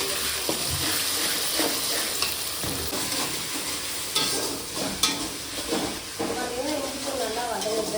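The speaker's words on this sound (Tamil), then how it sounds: "இஞ்சி பூண்டு கொஞ்சம் சேர்த்திருக்கோம். அதில் அந்த பச்சை வாசம் போகிற அளவுக்கு நல்லா வதக்கலாம்." Ginger garlic paste sautéing in a pan for a mushroom curry, a close hissing sizzle with frequent scraping stirs and clatters, some quieter stretches and a few brief knocks toward the end.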